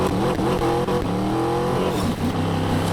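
A Dodge Charger engine in Need for Speed Payback revs loud and close, a throaty roar climbing and dipping in pitch with no talk over it.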